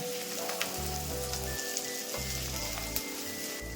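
Mint leaves frying in oil for brinjal chutney make a continuous, close sizzle with scattered crackles and pops, steady in loudness, with a low background hum stepping on and off and no talk.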